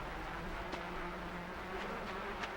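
Bees buzz around a beehive in the side-scrolling game Limbo, a steady close drone with a few louder swells as individual insects pass, alone without talk.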